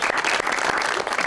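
A studio audience at a Pakistani TV show breaks into loud, dense applause, many hands clapping in a fast, continuous patter that stays even and close throughout.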